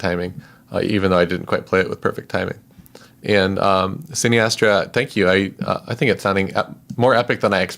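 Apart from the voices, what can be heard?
No everyday noise stands out behind the speech.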